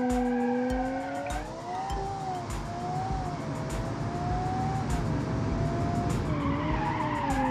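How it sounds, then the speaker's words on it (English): In BeamNG.Drive, a heavy 1500-horsepower ute's tires squeal in a long, wavering screech as it brakes hard over a rumbling engine, with no voices. "As you can see, the brakes are working perfectly."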